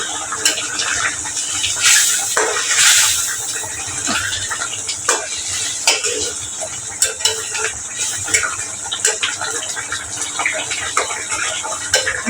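Food in a frying pan stirred after fresh coriander leaves go in, with scraping and clinking utensil strokes over a steady sizzle, close and fairly loud.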